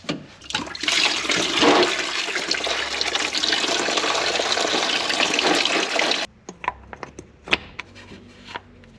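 Water rushes steadily out of the cooling system of a Daihatsu Midget for about six seconds, a loud broadband gush that cuts off abruptly, then scattered drips and small metallic knocks follow.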